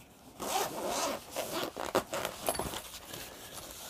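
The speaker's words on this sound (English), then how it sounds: "Carrying case, zipper, all good." A zipper runs on the carrying case of a VANKYO Leisure 410 LED projector, several close, loud zipping strokes in quick succession with no talking over them.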